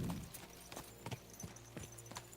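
Horse hooves clip-clopping in a steady galloping rhythm in Kingdom Come Deliverance 2, with several soft thuds close by over low ambient game noise.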